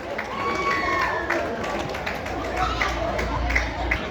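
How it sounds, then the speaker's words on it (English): A crowd at a 2024 rugby league game between the Indigenous side and the All Stars at Redfern Oval roars and cheers after a try, a broad steady wash of noise with a commentator talking over it. "the crowd loved that one"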